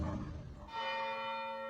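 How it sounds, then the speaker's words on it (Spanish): A church bell tolls for the dead, one deep strike ringing out with a long, sustained humming decay after a rumbling onset, heard alone without voices. "se avisa a la comunidad tras el fallecimiento de un parroquiano por medio del sonido de las campanas de los templos"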